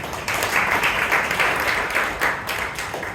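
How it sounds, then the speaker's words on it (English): A Bangalore Toastmasters Club meeting audience gives a round of applause for a member, steady close clapping that holds evenly for about three seconds. "A round of applause for Toastmaster Ratan."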